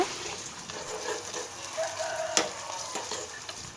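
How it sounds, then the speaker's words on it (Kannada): Chopped onions fry in oil with a steady sizzle and a stirring scrape now and then, close and moderately loud, no voices. "ನೀರುಳ್ಳಿನ ಸಣ್ಣ ಕೊಚ್ಚಿದು ಪಾಡೋ ನೋಡು ನೀರುಳ್ಳಿ ಕೆಂಪಾಪ ನೋಡ್ರ ಫ್ರೈ ಮಲ್ತೋನ್ಗ"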